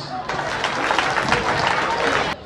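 An audience applauds a minister at a Christmas event in Dabou, a burst of many hands clapping that starts abruptly, holds steady for about two seconds and cuts off sharply.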